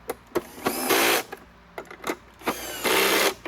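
A power drill on a low clutch setting tightens screws on a Riccar Supralite vacuum during reassembly, giving two long whirring runs separated by short bursts and clicks, loud and close with no talk.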